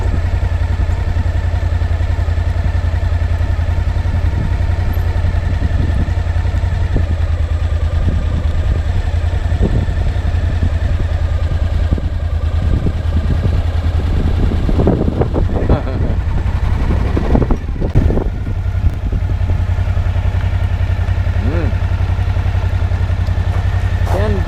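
A motorcycle engine drones steadily and loudly during a ride on a fishing and adventure trip, with deep constant rumble and some clattering, while someone talks over it.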